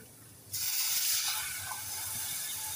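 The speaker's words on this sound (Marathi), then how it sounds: "आता आपण याच्यामध्ये थोडं पाणी घालूया।" Water poured into roasting sabudana (sago pearls) in a pan begins abruptly after a brief quiet moment, a loud broad hissing sizzle that eases slightly and continues steadily.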